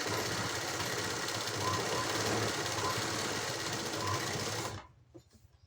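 A tailor's sewing machine runs steadily while stitching a neck and side seam, a loud, even mechanical whir with a rapid needle rhythm. It stops abruptly near the end, leaving near silence.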